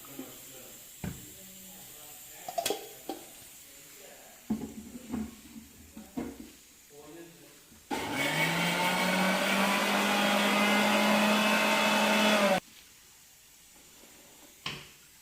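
A mixer grinder blends spice paste for broccoli curry with a little water, running as a loud, steady whirring roar for about five seconds between quieter clicks and handling knocks of the jar.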